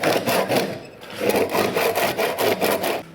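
Close, loud rasping strokes of a saw or file trim wood on a homemade two-string guitar, rhythmic back-and-forth pulls of about a dozen strokes.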